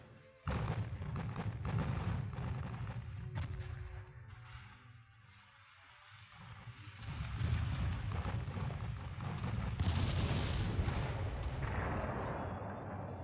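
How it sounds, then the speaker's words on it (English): In the Ultimate Admiral Dreadnoughts naval video game, torpedo hits and naval gunfire make a rolling barrage of booms and rumbling blasts. Two dense bursts are split by a short lull, and the whole barrage sits fairly quiet in the mix. "Taking massive torpedo hits here."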